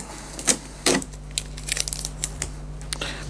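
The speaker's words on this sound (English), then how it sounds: "So if I remove the tape," Adhesive tape is peeled and pulled off an Epson C4000e colour label printer during unboxing. Close, crackly ripping bursts come with small plastic clicks and rustles.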